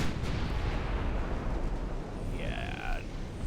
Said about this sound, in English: One more salvo and then I'm gonna switch targets, at least with my main guns.